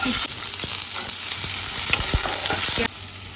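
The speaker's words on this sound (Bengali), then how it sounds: "পেঁয়াজটা একটু ভাজা ভাজা করে নেবো" An onion fries in oil already holding peanuts and nigella seeds, a loud, close sizzle punctuated by several sharp spatula knocks and stirs before the hiss softens slightly at the end, with no speech.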